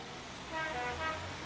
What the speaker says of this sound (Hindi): तभी स्कूल बस का हॉर्न जोर से बजा।